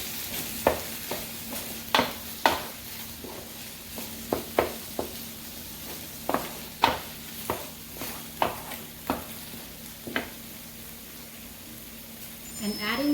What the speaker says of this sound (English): I'm going to add the meat here to the sauce